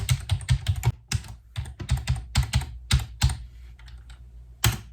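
Quick, clacky computer keyboard typing as an email address and password are entered: bursts of close keystrokes with short pauses, then a final isolated tap.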